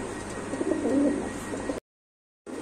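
Pigeons at a pigeon market, several pairs on sale, coo and call in a steady, moderately loud murmur for almost two seconds. A short silent gap follows before the birds return.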